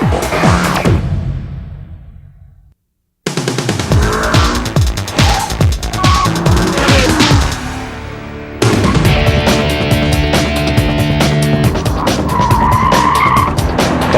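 A 2003 Porsche 911 Twin Turbo with the X50 engine package driving hard, loud engine roaring with repeated tire squeals and skids, broken by a short silent gap, continuous and close throughout.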